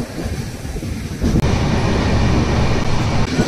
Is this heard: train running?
yes